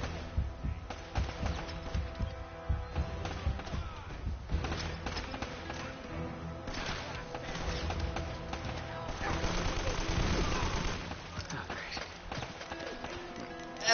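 Rapid gunfire bursts and explosions from the Uncharted: Drake's Fortune video game rattle in a busy, moderately loud action mix, with intermittent shots throughout.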